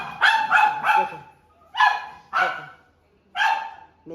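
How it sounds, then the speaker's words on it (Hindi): A pet dog barks excitedly at home, greeting its returning owner: quick sharp barks in bursts, three in a row, then two, then another pair, loud and close, with short pauses between. "देख लो सबको भौंक रही है"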